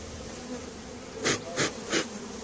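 Honeybees buzz around a captured swarm in Le Mée-sur-Seine, with a constant hum in the background and three louder passes as single bees fly close to the mic.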